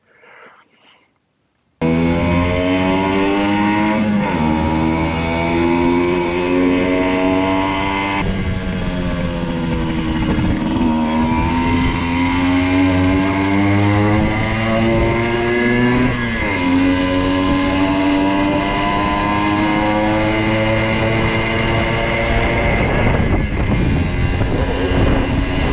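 A Yamaha RD50 moped engine with a freshly tuned Mikuni carburetor runs steadily and close by on a test drive, its revs rising and falling through the gears with wind noise, after a brief quiet start.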